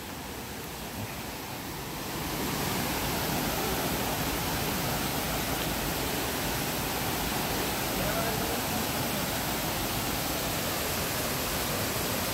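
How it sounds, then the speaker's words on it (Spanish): Waterfall at San Pedro Soteapan, a steady broadband roar of falling water, quieter for the first two seconds then swelling to a loud, constant rush as the cascade is reached. "Llegando a la cascada, se siente súper fresco."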